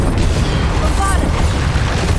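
A Bombarda spell explodes in the Hogwarts Legacy video game as a dense, loud low boom, rumbling continuously through the short span with faint tonal whistles above.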